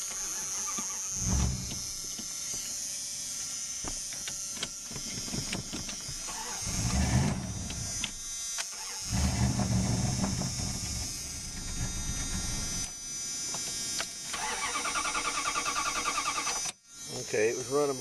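Dodge Dakota pickup engine running on wood gas from a gasifier, starting and then idling with a steady hum and shifting revs, heard from inside the cab with a person talking over it at times.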